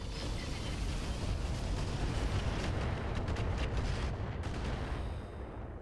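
Mech weapons firing in a RogueTech BattleTech video game, a sustained loud roar of overlapping blasts and rumbling explosions with no pauses.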